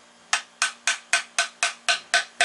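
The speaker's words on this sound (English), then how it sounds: "And then having your friend smack it with a hammer right there." Hammer smacking a part while an Airlift 3P air suspension is fitted to a 2011 Audi Avant, eight sharp metallic blows in an even, quick rhythm, close and loud over a faint steady hum.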